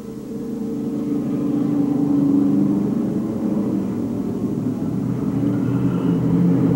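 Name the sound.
Pro Stock race cars racing nose to tail in qualifier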